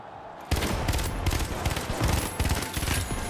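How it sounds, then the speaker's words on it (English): A grenade bursts abruptly in the first-person shooter The Finals, followed by a dense clatter of rapid gunfire and impacts continuing loudly to the end. "Oh, random nade"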